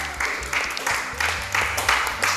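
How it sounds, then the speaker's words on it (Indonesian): A group applauds at a church theology quiz contest, with short swelling bursts of clapping that rise and fall in rhythmic waves, fairly loud and close, with voices mixed in. "Ya, tepuk tangan."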